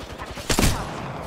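A brief, close burst of gunfire from Apex Legends cracks out over a constant background hum, a quick cluster of shots lasting only a fraction of a second.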